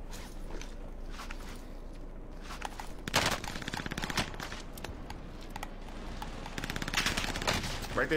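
Bursts of AK rifle fire in the video game Warzone, rapid automatic rattles clustered in two stretches over a steady game-audio background, fairly close and loud.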